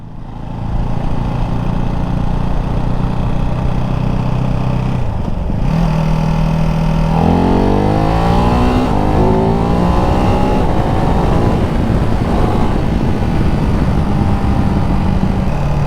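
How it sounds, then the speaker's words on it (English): A Ducati Hypermotard 698 Mono single-cylinder motorcycle revs hard on a test ride, its engine note climbing and falling in repeated loud sweeps with a steady rumble throughout. "So for a single cylinder bike, it does like to be revved."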